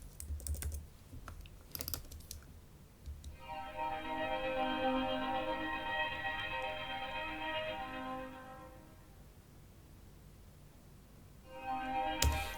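An Alchemy arpeggiated ambient pad from Logic Pro swells in with a bright, layered harmonic texture, holding steady for several seconds before fading, with scattered clicks and taps at the start and a brief return at the end.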